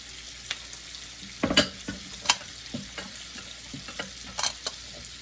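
Garlic dropped into hot oil in a pan, a sudden close sizzle burst followed by scattered sharp crackles and spatula taps in an uneven rhythm.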